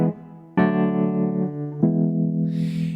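A flat seven chord from a song, struck as a sustained tonal chord that is re-struck twice and rings on between attacks, fairly loud and with no voices over it.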